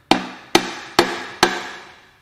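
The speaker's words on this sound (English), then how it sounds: "Let's just hammer on it." Four sharp metal hammer blows strike a Ford 6.4L Powerstroke diesel core engine during a teardown, evenly spaced about half a second apart, loud and close with short ringing decays.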